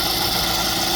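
2016 Infiniti QX80 engine idling with a new crankshaft pulley and belt, a steady, close, even hum with no knocks or irregular rhythm.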